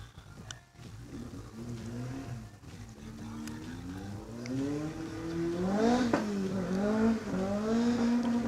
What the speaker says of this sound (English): Reese Molden now in the Datsun 1600, approaching the Fristy bits, pushing it pretty hard, swings it nicely around that tight bit.